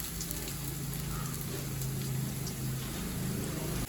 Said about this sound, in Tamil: வெங்காயம் நல்லா இப்போ வதங்குது